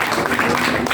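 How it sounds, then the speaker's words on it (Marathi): Audience applause after a talk on the Bhagavad Gita, a short loud burst of clapping from a crowd. "म्हणून पुन्हा एकदा टाळ्या वाजवा."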